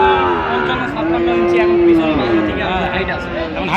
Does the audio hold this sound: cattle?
yes